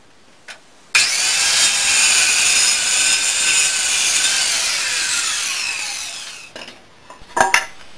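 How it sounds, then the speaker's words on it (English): A handsaw cuts steadily through wooden boards along a guide clamped in place, a continuous rasping stroke for about six seconds, close and loud, then stops, followed by a few faint knocks. "I clamped a guide onto my boards to keep the cut straight"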